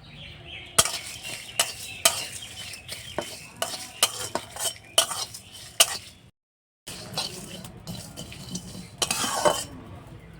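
Whole coriander, cumin, dried red chillies, black peppercorns, whole garam masala and bay leaves dry-roasting in a pan, with repeated sharp scraping and clinking of a spatula against the metal, a short pause, then more stirring, close and fairly loud.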